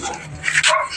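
A dog gives a short close bark mixed with a whiny yip, loud and alone without talking.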